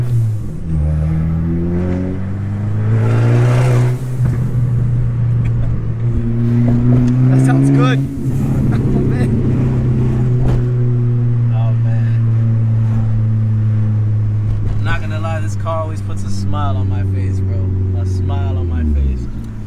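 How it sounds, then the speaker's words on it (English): A loud Abarth 500 engine drones steadily and close throughout, its pitch rising and falling with revs, while people talk over it. "Your car is loud."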